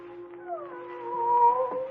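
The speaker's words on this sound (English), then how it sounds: "There's that cat again." A drawn-out, wavering cat meow rises and bends in pitch, fairly close, over a quiet background with faint rustling.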